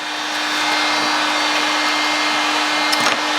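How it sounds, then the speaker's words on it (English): A heat gun runs steadily throughout while a custom Jordan 4 sneaker with Knicks styling is worked on, producing a constant broad blowing roar with a faint steady hum and a couple of small handling knocks near the end. "Looks like I can turn the heat gun off."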